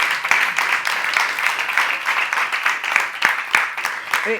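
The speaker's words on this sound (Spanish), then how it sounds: "un aplauso para Julio, por favor" Audience applause for percussionist Julio Tirado, steady clapping at moderate loudness for the full stretch with a few sharper individual claps standing out, and a brief voice near the end.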